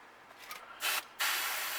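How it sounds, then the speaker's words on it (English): Paint is sprayed onto a bluegill crankbait in short airbrush bursts: a soft faint hiss, then a brief sharp spray, a pause, and a longer steady hiss, close and alone. "Lightly spray."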